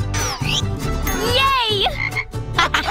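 A frog croaks in short, bright chirping bursts over a low rumbling background, with several rapid calls packed into a few seconds.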